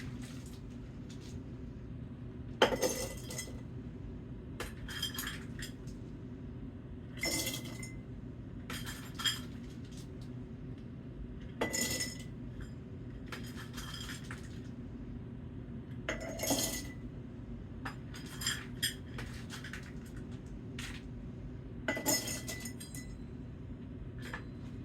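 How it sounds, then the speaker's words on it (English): Dried butter beans drop into glass canning jars for pressure canning, producing a scattering of short glassy clinks and rattles in separate bursts over a steady low hum, with no talking. "And then we're going to add a half a cup of butter beans to each jar."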